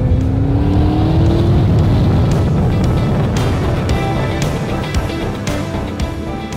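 Loud roar of an 1100 hp twin-turbo Ford GT under hard acceleration, with exhaust pops crackling through the sustained engine drone close up inside the car.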